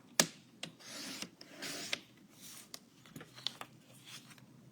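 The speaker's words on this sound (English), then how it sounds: "Both of these yellow papers need to be trimmed down to 11 by 11." Yellow paper being trimmed down to size for a 12x12 scrapbook page layout, heard as quiet rubbing, rasping cuts and sliding strokes with a few sharp ticks, close and faint, with no talking.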